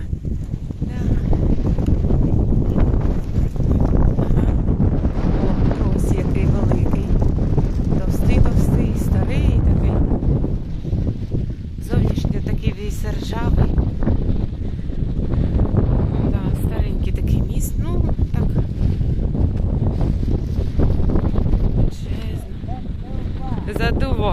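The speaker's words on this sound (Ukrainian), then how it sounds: "дує, дує, задуває. Вітерець." Wind blows across a microphone in a park in Myrhorod in October, a constant low rumbling buffet, while people talk over it throughout.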